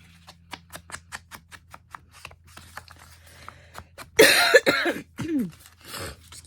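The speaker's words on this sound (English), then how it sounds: "Excuse my coughing" A woman with a lingering chest cold coughs several times in a harsh, close burst partway through, following a run of small taps and scratches from journaling or inking work at a craft table.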